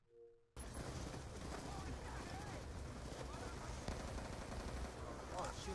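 Gunfire crackles without pause through a Call of Duty Black Ops 2 battle. The shooting is loud and dense, and voices run through the din.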